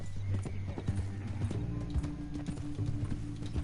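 Horse hooves clip-clop in Red Dead Redemption 2, a steady near trot with a low droning tone underneath, alongside a faint whinny.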